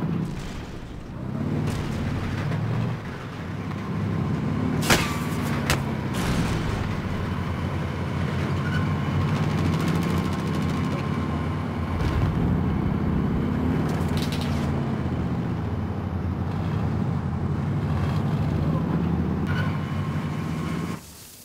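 Vehicle engine rumbling steadily during a drive in Call of Duty Warzone, a continuous low drone with shifting pitch and occasional sharp impacts, with only light talk.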